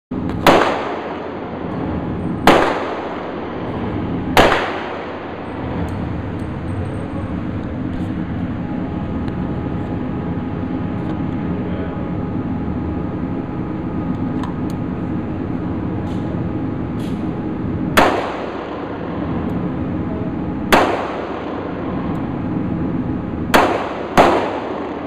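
Shots from a Dan Wesson Specialist 1911 pistol, after about 10,000 rounds, during accuracy tests: loud, sharp single reports spaced irregularly, a few at the start, then a long pause, then several more near the end, with a steady background rumble between.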